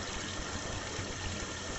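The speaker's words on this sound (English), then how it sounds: "So as you can hear, I don't know if you can hear that, the water is running." Water runs steadily down a bathtub drain recently tightened to stop a leak at the trap in PVC plumbing, a continuous close rushing and gurgling flow with no talk.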